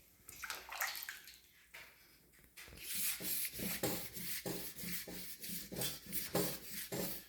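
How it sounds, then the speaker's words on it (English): Wet sanding the grill of a Kubota mini dozer by hand, a close, rhythmic rasping scrub with repeated back-and-forth strokes, quieter at first and then strong and steady, with no talk. "This will sand up really fast with that wet sand, and it takes it down quick."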